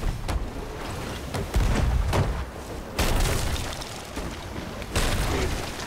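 Ship cannons fire in the Sea of Thieves video game, giving a run of heavy booms and blasts in rapid succession. The booms are loud and close and overlap into a continuous rumble.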